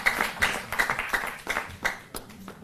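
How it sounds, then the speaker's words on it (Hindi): Audience clapping in bursts at an event honouring the Delhi Chief Minister with a turban, moderately loud with uneven, rippling claps and no talk over it. "जोरदार तालियों से हम सहभागी बने"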